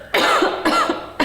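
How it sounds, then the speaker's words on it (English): A person coughs three times in quick succession, loud and close, each cough a sharp burst with short pauses between. "I'll let you have a cough."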